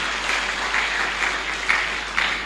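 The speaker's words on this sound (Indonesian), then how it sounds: "mana tepuk tangan kemuliaan buat Tuhan" Worshippers at a Sunday service clap together in praise, a loud, full wash of hands ringing through the sanctuary with a few sharper bursts standing out.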